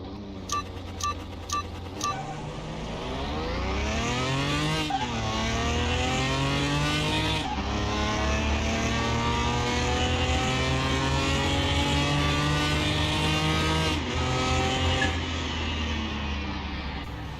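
A tuned, upgraded car engine in Car Mechanic Simulator 2021 revs hard and climbs through rising harmonic sweeps, holding loud and steady at high rpm with brief drops between shifts, after a few short clicks at the start.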